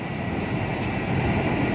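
KRL commuter train on the Solo–Yogyakarta line rumbling at a station, a steady, loud broadband roar of wheels and carriages that holds evenly throughout without speech.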